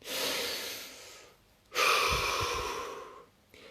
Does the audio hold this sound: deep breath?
yes